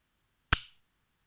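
A single sharp metallic snap as the hammer of an 8mm 1892 revolver falls on dry fire, close and crisp with a short decaying ring, surrounded by silence.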